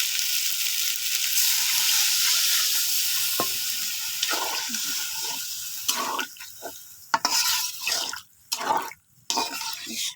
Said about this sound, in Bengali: এখন আমি পানি দিয়ে দিই।